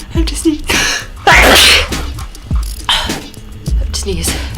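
Several loud, close sneezes burst out one after another, with breathy vocal sounds and catches of breath between them.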